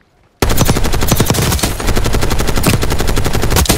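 Sustained rapid automatic gunfire in a video game bursts in abruptly after a brief quiet start, loud and close, a dense fast rattle continuing to the end.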